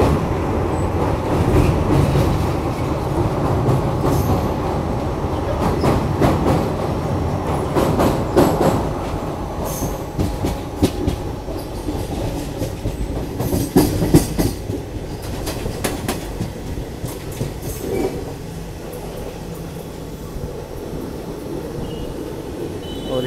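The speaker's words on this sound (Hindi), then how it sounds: "और बस अब ट्रेन पहुंचने वाली है भरूच रेलवे स्टेशन।" A train approaching Bharuch railway station in India, crossing the Narmada river bridge, with loud continuous rumbling and rhythmic clickety-clack of wheels, heard from on board with no talk.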